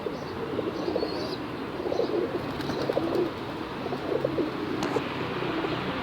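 Several pigeons coo in low, throaty bursts against a constant ambient hiss, with a few brief chirps and flutters mixed in.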